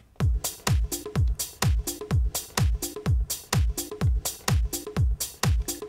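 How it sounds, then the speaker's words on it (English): A steady drum loop thumps with a crisp tambourine shaking on the off-beats, tight and repetitive, with no voices. "You can hear our tambourine pattern."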